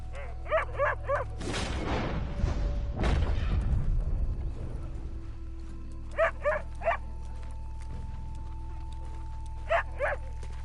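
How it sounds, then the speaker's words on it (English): A dog in a PS4 video game barks in short clustered bursts of three, fairly near, recurring across the span, with a couple of heavy thumping impacts in between and no voices. "It's just a dog."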